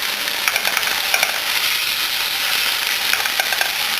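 A beef burger patty fries in a hot pan, giving a loud, steady sizzle with small crackling pops throughout and no voices.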